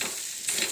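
Food being stirred in a pan while one hand holds the vessel steady, a brief burst of scraping and soft sizzle, close and fairly quiet, with no voices.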